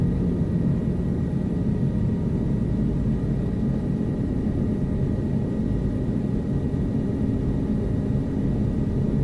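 A light helicopter in Flight Simulator 2024 drones steadily in gentle winds, a loud, even, low engine and rotor rumble with a faint thin whine above, unchanging and with no voices.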